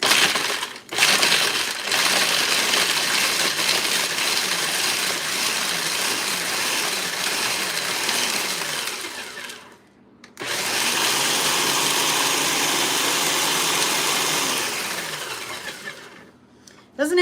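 Blender pulsing Oreo cookies into crumbs, a loud continuous grinding whir with clattering pieces, cutting out briefly near the middle before starting again, close up and with no talk.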